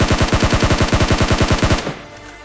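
Automatic gunfire in the mobile battle royale game PUBG Mobile: a loud, rapid, evenly spaced burst of about twenty shots lasting nearly two seconds, then a brief fading echo.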